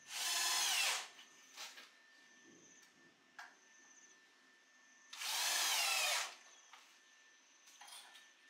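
Power drill driving screws into reclaimed wood on a DIY workbench build, two loud whirring bursts each about a second long, separated by quieter knocks and handling sounds.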